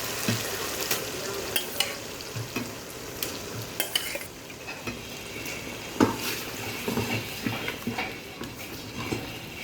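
Meat and liver being stirred and fried together in a pan, with a continuous sizzle broken up by repeated scraping strokes and clinks of the spoon against the pan, close and fairly loud, with no talking.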